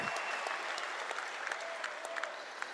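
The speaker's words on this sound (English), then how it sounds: "Let's give them an applause." Stadium crowd applauding the LSU national championship baseball team at Alex Box Stadium, a dense, fairly distant wash of clapping and cheering that holds steady throughout with scattered sharper claps.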